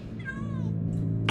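A cat meows in the video game Minecraft: Story Mode, a single short rising-and-falling meow heard clearly over a low background hum, followed by a brief noise burst.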